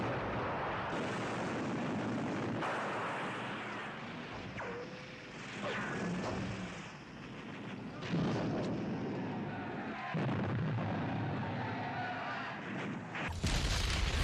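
Battle sounds from the Saving Private Ryan beach landing fill the scene: heavy booming artillery, rattling gunfire and whizzing rounds under a constant loud roar, with sudden blasts breaking through at intervals.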